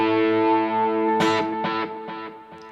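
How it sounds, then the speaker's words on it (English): Electric guitar chords run through a rhythmic delay pedal with distortion, the repeats choked off by palm muting into short, evenly spaced bursts that decay in steps over a sustained tone. "just having that rhythmic delay, kind of choking it out with a little bit of muting here"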